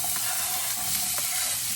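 Chopped onions sauté in hot olive oil in a pan, making a dense, even sizzle close by with a couple of faint stirring clicks.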